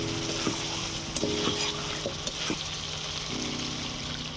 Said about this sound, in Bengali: অল্প একটু জল দিয়ে চিকেনটা ভালো করে কষিয়ে নেব